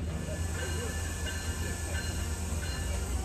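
Amtrak Coast Starlight train led by two Siemens ALC-42 locomotives gives a continuous low rumble with a hissing wash on top, close by and steady.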